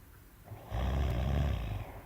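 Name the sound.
man snoring while asleep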